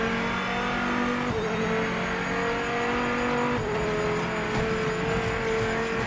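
A Viper race car engine in the Project Motor Racing video game roars loudly and steadily, with pitch shifts as it changes gear and brief tire squeal, no voices over it.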